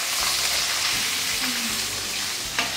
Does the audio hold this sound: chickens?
no